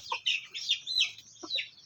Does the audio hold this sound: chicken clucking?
yes